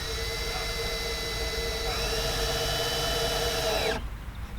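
A power drill drives screws into damp wood while a raised garden bed is built, its steady high whine running loud and close for about four seconds before cutting off abruptly.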